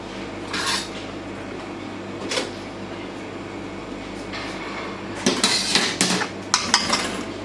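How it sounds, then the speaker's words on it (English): A palette knife scrapes icing off a flour-free almond and pistachio cake flavoured with lemon and rose water. It comes as short, scratchy strokes in scattered bursts, with a livelier cluster of scrapes near the end. "Scrape all the icing."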